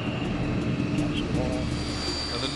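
An old Cold War military aircraft engine drones in flight as a low, steady rumble, fairly faint, with a voice speaking over it.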